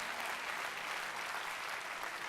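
Steady applause from a church congregation fills the space, dense even clapping from many hands sustained throughout with no voices standing out.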